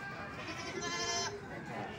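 Goats bleat at a busy sacrificial livestock market for Eid, a wavering harmonic cry rising over a steady crowd murmur and background chatter, with dealers and buyers talking nearby.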